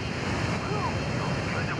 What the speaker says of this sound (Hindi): अबे हेलीकॉप्टर मेरे बाजू में हां वो तब से घूम रहा है